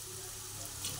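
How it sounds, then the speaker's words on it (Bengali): Potatoes fry in oil in a wok with a low steady sizzle and faint crackle, plus a small pop near the end. "আলুগুলো ভাজা হচ্ছে"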